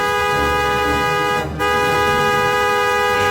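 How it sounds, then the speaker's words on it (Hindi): A cartoon magic tractor's horn blares in one long, loud, steady tone with a brief break near the middle, sounding alone. "अचानक ट्रैकी के हेडलाइट्स तेजी से जल उठते हैं और उसके हॉर्न से जोरदार आवाज"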